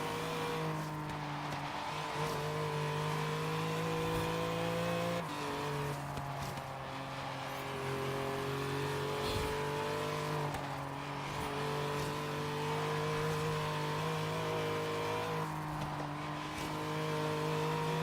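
Race car engine in Forza Horizon 3, a Bowler EXR, droning loudly with sustained revs that drop and climb again at each gear change, tires briefly squealing, no talk over it.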